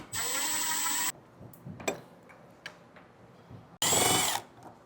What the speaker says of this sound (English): we need to take a Phillips screwdriver. There's going to be 4 screws on the inside here